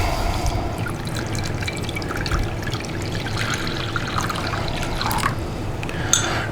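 Warm water pours and trickles into a mixing bowl while making German bread, a steady soft liquid wash at close range over low background noise, with no talking.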